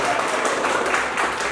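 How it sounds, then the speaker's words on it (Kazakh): A crowd at a 20-year school class reunion celebration applauds, a dense, near burst of clapping that continues steadily through the moment without pause. "Ал келіншектерімізге бір қол шапалақ ұрып қояйық"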